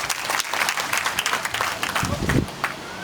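Applause from a crowd at an outdoor gathering in Pipasar on Janmashtami, where a speaker addresses the audience at Guru Jambheshwar's birthplace; dense, continuous clapping fills the scene, with voices mixed in.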